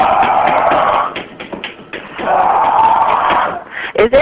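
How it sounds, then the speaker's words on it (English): Repeated banging on a hotel door, a run of loud thumps and slams that pauses and then resumes, heard close with short broadband hits. "Okay, continue the banging."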